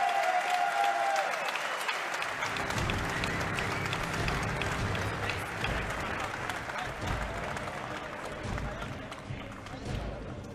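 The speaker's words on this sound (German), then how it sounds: "Ihr Applaus bitte für beide Kämpfer vor der Urteilsverkündung." Audience applause for two MMA fighters in a welterweight bout in Munich, a loud, dense wash of clapping and crowd noise sustained for about ten seconds without letup.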